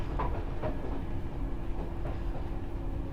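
Train running on rails: a steady, muffled rumble with regular clickety-clack beats from wheels on rail joints, continuous and moderately loud with no voices.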